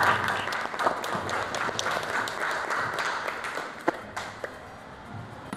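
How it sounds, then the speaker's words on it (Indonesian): Classroom applause from students in an art lesson, a busy patter of clapping that fades somewhat toward the end, with a few sharper individual claps standing out. "Berikan tepuk tangan."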